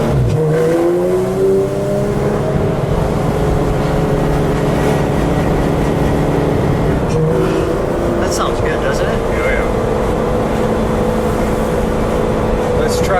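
A green 2016 Porsche 911 GT3 RS pulls away under throttle, its engine note building and rising loud from inside the car, with people talking over the drive.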